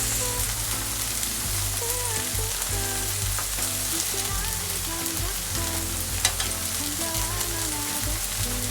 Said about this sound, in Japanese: じゃあ一旦これ揚げます